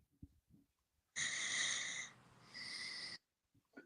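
Heavy breathing close to a microphone: two long, loud, raspy breaths, the second following a short pause, with soft, scattered noises before and after.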